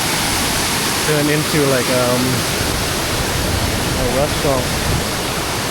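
Steady roar of Tad Keo Muong Kout waterfall in Laos fills the clip as a constant broadband rush, close and loud, while people talk over it at a restaurant beside the falls.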